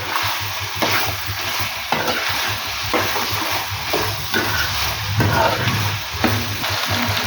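Mutton curry being stirred in a pan, with repeated scraping strokes of the spoon over a constant frying sizzle and hiss, close and steady.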